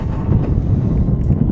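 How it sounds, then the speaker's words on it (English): Wind buffets the microphones at a high school football field on a windy afternoon, a dense low rumble of steady, loud gusts heard alone. "Nice, beautiful, windy afternoon. See the flag flying."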